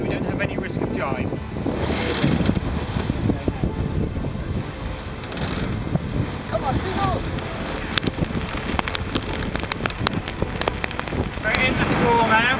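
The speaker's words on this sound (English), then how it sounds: "As you can tell, it's starting to rain. It's raining quite hard." Hard rain in a squall at sea aboard a sailboat running downwind, a dense hiss of rain and wind buffeting throughout with irregular splashes and knocks.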